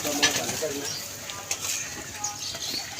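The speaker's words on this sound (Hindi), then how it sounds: "ये कबूतर है" A pigeon at a pigeon club coos softly in the background while people talk nearby, with faint outdoor clatter around them.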